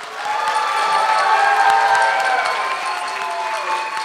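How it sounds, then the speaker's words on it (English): An audience at a church Christmas program bursts into loud, sustained applause with cheering, a dense wash of clapping that holds steady and then eases slightly, with no speech over it. "I need you to give your loudest applause"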